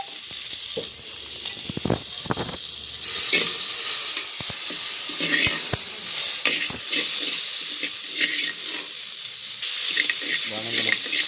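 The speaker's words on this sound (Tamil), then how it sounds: "இப்போ அப்படியே வறுக்கிறோம். கொஞ்சமா ஆயில் போட்டாச்சு." Pieces of goat leg fry in a small amount of oil, giving a steady crackling sizzle throughout with occasional stirring clatter and a few louder spatters, close and continuous.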